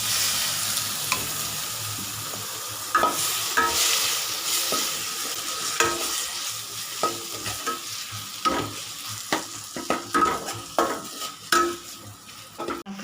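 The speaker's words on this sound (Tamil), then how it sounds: "தக்காளி நல்லா வதங்கட்டும்." Tomatoes sauté in a pan for chicken chukka, a continuous oily sizzle broken by frequent scraping stirs and sharp metallic clinks of a spoon against the pan, close and clear with no talk.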